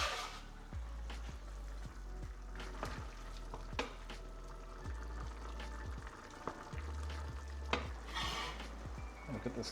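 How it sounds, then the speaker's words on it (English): Quorn pieces simmer and sizzle in a pan, a faint steady frying hiss with occasional soft pops and clicks, heard alone. "we're going to let that simmer like that for a while"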